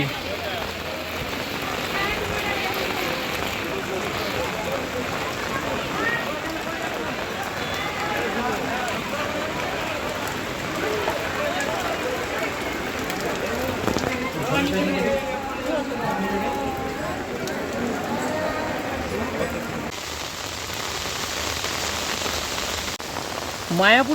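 Heavy rain pours steadily throughout at Mayapur during the Ulto Rath festival, a dense hiss of drops on surfaces, with faint movement sounds mixed in.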